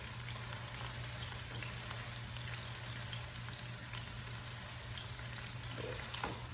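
Burger patties fry in a pan with a steady close sizzle, scattered sharp pops of spitting fat over a constant low hum.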